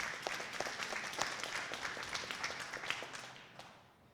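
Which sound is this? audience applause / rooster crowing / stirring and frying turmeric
audience applause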